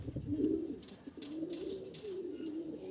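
Soft, low cooing from a white pigeon, repeated in a gentle rolling rhythm close by, with faint higher chirps and light background noise.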